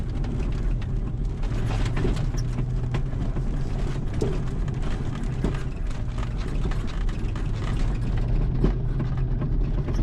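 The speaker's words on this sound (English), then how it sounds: "I think that's the rear struts dropping out. Or bottoming out before the shock is at full compression." A BMW Z3 with MAXPEEDINGROD coilovers driving a dirt track, its rear struts bottoming out: constant loud rumbling road and cabin noise with a few faint, irregular clunks buried in it.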